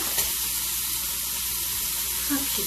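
Meat searing in a hot pan, with a loud, steady, close sizzle and hiss running throughout and a couple of faint clicks.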